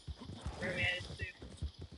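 A horse's hooves clip-clop in a PS4 video game, a brief soft rhythmic trot heard faintly under a player's chatter.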